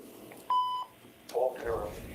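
A short electronic beep from an automated phone system, one steady tone with faint harmonics, followed by a brief muffled voice-like sound over low line hiss.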